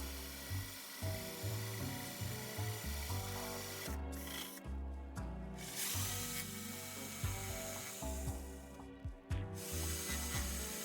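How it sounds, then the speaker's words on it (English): A jigsaw cuts a line outward from a drilled hole, giving a close, loud, rasping buzz that runs steadily with a few brief pauses and no talk. "use the jigsaw to cut a line out from there"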